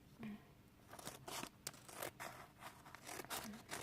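Scissors snip and slice through paper while making scrapbooking pockets, in a series of crisp, close cuts, with rustling and scraping between strokes.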